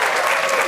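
An audience claps hands in a short, steady burst of dense applause, loud and close throughout with no pauses.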